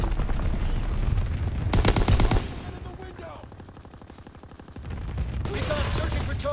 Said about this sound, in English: Anti-aircraft salvo commenced.